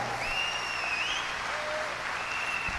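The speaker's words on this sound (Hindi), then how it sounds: "जोरदार तालियों से स्वागत कीजिए मेरी ब्यूटीफुल वाइफ" A crowd at a business celebration applauds to welcome the host's wife, Seetha. The clapping is soft and steady and continues briefly under faint tonal background sounds.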